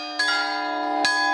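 Church bells of San Juan Bautista in Puntallana ring a festive New Year peal, loud and close, with sustained ringing tones and fresh strikes landing at irregular intervals.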